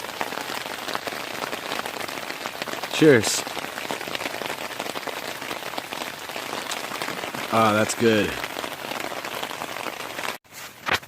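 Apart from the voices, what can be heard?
rain falling in the woods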